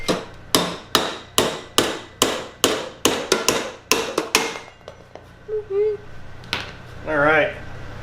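A welded-on brake caliper mount being knocked loose with a hammer: about a dozen loud, sharp metal strikes in a steady rhythm that speeds up slightly, then a few scrapes and clanks with muffled talk near the end.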